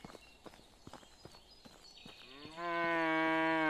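Cattle low in Medieval Dynasty: footsteps crunch along at first, then one long, close moo rises and holds to the end.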